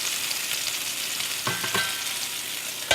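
A turned steak sizzles in a steel pan with a close, constant hiss of frying fat, broken by a few brief clinks and pops partway through and a sharper knock at the end.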